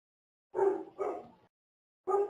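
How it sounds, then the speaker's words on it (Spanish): A small dog barks somewhere away from the car being worked on, three short yaps, the first two close together and the third after a pause, each clear and alone without talk. "Se oye por ahí un perrito."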